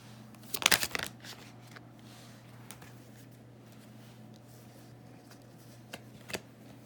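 Tarot cards are shuffled and drawn, with a quick riffling burst near the start followed by faint soft slides and taps, a quiet hum running beneath.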